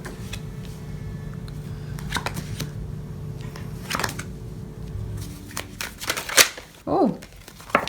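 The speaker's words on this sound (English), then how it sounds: "Let me pull some clarifying cards for you." Tarot cards being shuffled and pulled from the deck, giving soft papery riffles and sharp snapping flicks near the microphone over a low steady hum, with a brief voice toward the end.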